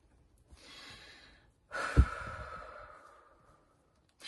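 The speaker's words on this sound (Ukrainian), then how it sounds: "зробіть вдих-видих" Deep breaths in and out during a guided relaxation exercise: a soft exhale, a pause, then a louder sighing breath with a brief bump, fading out, with no talk.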